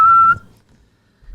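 A voice mimics a whistling noise as part of a joke, giving one short, clear, steady whistle tone that cuts off abruptly, followed by quiet.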